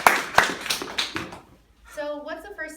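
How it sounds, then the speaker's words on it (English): A few people clap in a brief, fairly close burst of applause for a student's speech, fading out after about a second and a half before a voice starts talking. "let's give Maysen a big round of applause"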